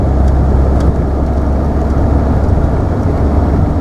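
A 2003 Renault Scenic engine runs steadily after a cold start, a loud, close, continuous low rumble with no talk.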